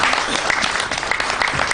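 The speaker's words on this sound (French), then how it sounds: "On va applaudir donc le geste." A brief, dense burst of audience applause at an award ceremony, steady and close, with a faint voice mixed in.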